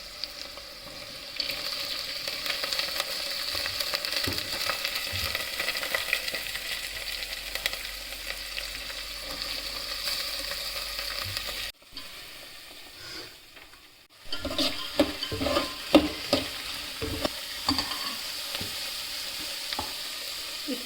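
Soaked chana dal fries and is stirred in a hot pan, giving a loud, continuous oily sizzle. A brief quieter gap is followed by renewed sizzling with scattered scraping and clinking stirring sounds.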